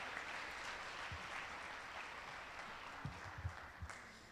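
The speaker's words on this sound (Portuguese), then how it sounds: "Vamos aplaudir um pouquinho mais forte, porque Ele é merecedor?" Church congregation applauding during a worship service, a steady wash of many hands clapping at moderate distance, with a few sharper claps standing out near the end.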